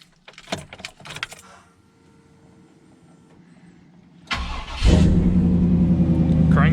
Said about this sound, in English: All right, we're gonna crank it up.